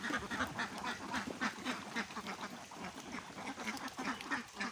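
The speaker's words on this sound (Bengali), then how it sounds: "তো দেখেন হাঁসগুলো খাবার দিয়ে আসছে আবার খাবার খাইতেছে" Farm ducks quack steadily in a noisy chorus while feeding, the calls close and continuous, overlapping one another across the whole stretch with no talking.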